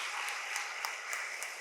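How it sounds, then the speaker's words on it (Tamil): Audience applause at a Pongal celebration event at Sri Narayani Hospital in Vellore, steady crowd clapping heard from a distance, continuous and even with a few sharper claps standing out. "அன்னபாரதி அவர்களுக்கு ஒரு பெரிய கரகோஷம் கொடுங்க"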